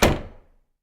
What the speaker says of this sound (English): I closed the door behind him.